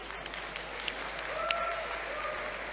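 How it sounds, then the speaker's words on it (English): Faint, distant audience applause for a competitor at a ninja challenge league finals, a soft steady patter of clapping lasting a few seconds with a couple of brief whistles. "Big round of applause for James."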